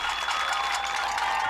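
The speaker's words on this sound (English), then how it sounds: "As we offer a huge round of applause." Brief burst of crowd applause at a high school football game between Fremont and Prairie Heights, a steady wash of clapping from the stands heard over a faint tonal hum.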